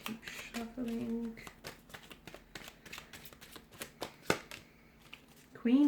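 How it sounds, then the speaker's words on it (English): Tarot cards being shuffled by hand, a quick riffle of flicking card edges with a few louder slaps, close up while a voice talks quietly over them. "Keep shuffling."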